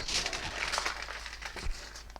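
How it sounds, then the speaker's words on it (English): Nonstick kitchen foil crinkles and rustles up close as its edges are pushed up into a bowl shape, in a short run of crisp, irregular crackles. "So I'm just going to take some nonstick foil, bring up the edges, and just kind of make a bowl out of it here"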